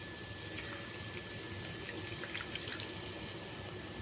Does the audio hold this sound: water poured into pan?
yes